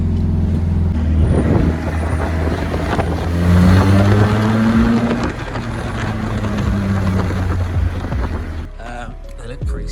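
A Mazda Miata with wider rear wheel fitment drives along a road, its engine note rising and falling through gear changes with steady road and wind rumble, heard from inside the car.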